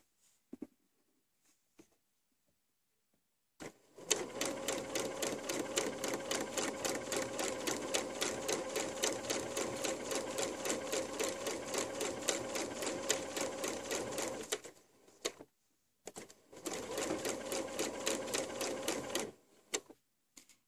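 A sewing machine stitches quilt fabric along the presser foot in one long, steady rattling run of about ten seconds, then stops and runs again for a few more seconds, alone and close up.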